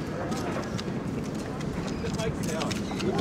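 Horses' hooves clip-clop steadily on pavement at a White House Christmas tree delivery, a continuous rhythmic clatter at moderate distance mixed with crowd noise and speech.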